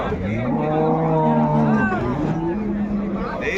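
Cattle lowing at a busy Friday livestock market, a loud close moo rising and falling over background crowd chatter and people talking.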